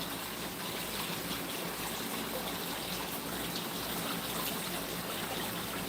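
Water pours steadily into a newly dug pond on a farm, a continuous dense rushing and trickling wash that holds even throughout with no voices.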